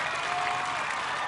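A large arena crowd roars and applauds in a dense, continuous wall of cheering at the American Ninja Warrior national finals, steady and loud throughout.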